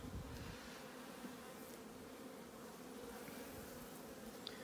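Bees buzzing around wooden hive nucs, a dense continuous hum of many insects close by, steady and moderately quiet with no voices.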